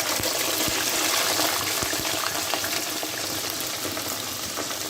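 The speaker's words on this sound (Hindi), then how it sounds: "अब इसी ऑयल में जो है वो हम पोटैटो फ्राई करेंगे। आलू डाल दें।" Potatoes fry in hot oil for an aloo arvi curry, producing a dense, loud, bubbling sizzle that stays steady throughout with no talk.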